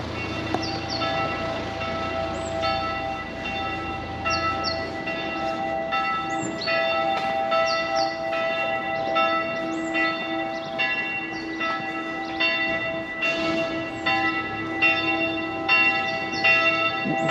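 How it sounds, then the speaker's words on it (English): Church bells ring continuously in Vilnius, Lithuania, with overlapping resonant peals, a steady cascade of tolling that carries clearly without any talking. "Church bells is one of the things that I actually really enjoy"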